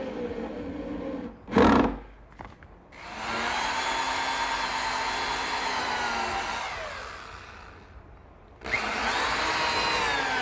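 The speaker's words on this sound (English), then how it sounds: "I'm putting 4 screws in through the back" A power drill drives screws through a backsplash into a countertop, with a short burst, then a long steady whirring run that slows and stops, followed by another loud drilling start near the end.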